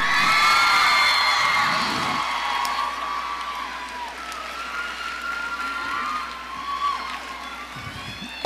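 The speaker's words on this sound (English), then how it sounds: "please give a big round of applause to Peggy Woods Doherty" A crowd at the World Irish Dance Championships opening ceremony in Boston cheers loudly, with high whoops and whistles rising over a broad roar that eases slightly but carries on throughout.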